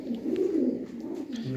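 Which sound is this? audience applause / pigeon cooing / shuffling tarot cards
pigeon cooing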